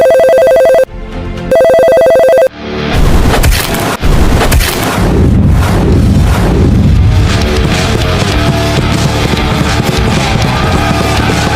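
Telephone ringing through an unanswered call in an animated war drama, two loud electronic ring bursts followed by heavy booming explosions and rumbling that continue to the end.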